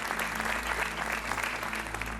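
Studio audience applause on the Portuguese TV game show Joker, a dense, steady round of clapping from the crowd, loud and continuous throughout.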